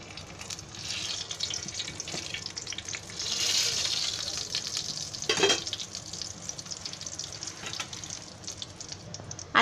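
Cumin seeds and bay leaf crackle and sizzle in 100 grams of hot oil for potato masala bhaat, a steady bright hiss with a louder swell midway and a sharp pop, close by with no talk.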